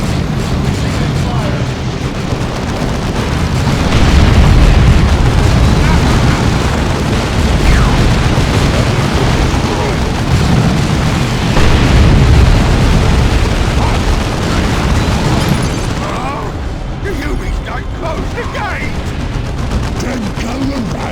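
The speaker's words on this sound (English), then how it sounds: "Our fortifications are under assault. Receiving fire!" Explosions and incoming fire roar through a battle in the strategy game Dawn of War 2: Chaos Rising. Loud, continuous and rumbling, the blasts swell and recede across the stretch, with voices mixed into the din.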